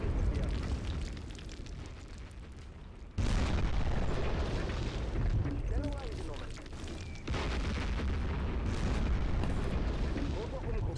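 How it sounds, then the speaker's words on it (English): Artillery fire pounds across a World War II Eastern Front battlefield in Close Combat, with sustained heavy booms and rumbling explosions that jump louder partway through and keep going steadily. "This is all just artillery fire."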